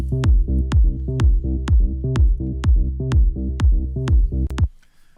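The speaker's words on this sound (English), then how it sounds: "And together with a kick and the sub" A Moog synth bass for progressive house plays together with a punchy kick drum and sub bass, with a steady four-on-the-floor kick driving about ten evenly spaced hits and sustained bass notes pumping between them before it stops.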